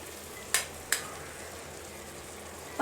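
Rice is stirred into crab biryani in a pan: two quick, soft scraping taps close by, then a faint steady background hiss, with no talking.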